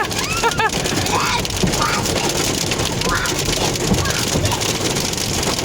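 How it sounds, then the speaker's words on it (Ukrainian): Rain mixed with hail pours down outdoors, a dense continuous patter and hiss of drops striking surfaces with gusty wind buffeting, no voices over it. "настав дощик і град"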